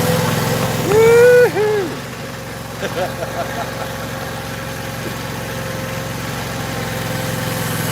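Engine noise continues steadily across the whole stretch while someone lifts a log, with a steady low hum and a brief louder surge near the start. A person whoops once over it.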